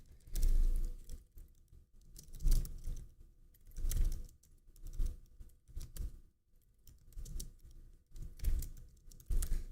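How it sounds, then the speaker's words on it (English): Someone types on a computer keyboard in uneven bursts of muffled clicks and thumps with short pauses between, close-up and moderately loud, no voices. "Sorry for the typing."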